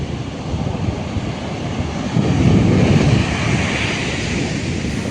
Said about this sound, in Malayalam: മഴക്കാല കാലാവസ്ഥ ശരിയില്ലാത്ത കാരണം കടൽ ഭയങ്കരമായിട്ട് പ്രക്ഷുബ്ധമാണ്